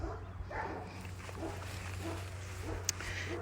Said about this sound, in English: excuse my dogs losing their mind in the background